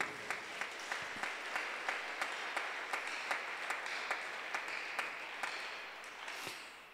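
A church congregation applauds the Lord at a prayer service, bright rhythmic clapping in unison, steady and moderately distant, filling the room for several seconds.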